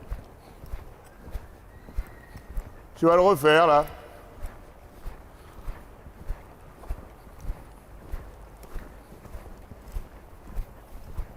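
Steady clip-clop of a ridden horse's hooves in an even rhythm throughout during a riding lesson, with a person speaking briefly partway through.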